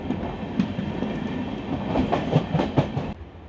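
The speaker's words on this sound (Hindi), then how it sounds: "अमृत भारत एक्सप्रेस निकली है दानापुर से।" The Amrit Bharat Express departing Danapur station rumbles on the rails with a steady roar and rhythmic clickety-clack wheel beats, heard from inside the train, with no talking.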